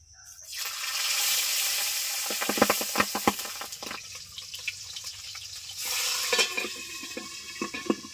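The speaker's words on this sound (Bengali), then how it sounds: "তেল গরম হয়ে গেছে, মাছ দুটো ভেজে নিচ্ছি।" Two fish frying in hot oil in a wok for a home-style Bengali dish, a steady broadband sizzle with sharp spitting pops and crackles, loud and close, surging again near the end with no talking.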